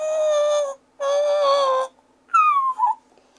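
Rough, squeaky first attempts on a mouth turkey call by a beginner: two sustained reedy, whiny tones followed by a shorter wavering squeal that breaks and drops, loud and close with no talking.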